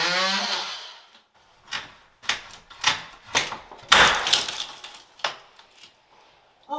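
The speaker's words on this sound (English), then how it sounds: "Okay, oscillating tool." An oscillating multi-tool cuts in a closet makeover, a harsh buzzing rasp heard in a series of short bursts, several of them close and loud, with brief silent gaps between.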